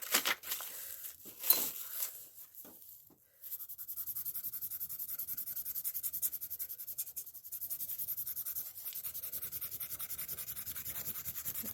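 A pencil rubs steadily over paper laid on dress lace in a frottage technique, making a continuous fine scratchy rasp with a rapid back-and-forth rhythm after a few short handling taps and rustles.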